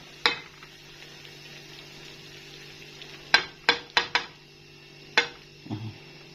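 Hot liver and kidneys are scooped from a pan in Egyptian-style cooking, giving a few sharp metallic scrapes and clinks of a spoon against the pan over a faint background sizzle.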